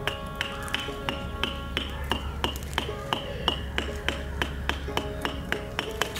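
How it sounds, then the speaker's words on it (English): Hammer repeatedly pounding strips of papyrus plant, a steady series of sharp, evenly spaced taps close by with a low hum underneath. "But also gonna use a hammer."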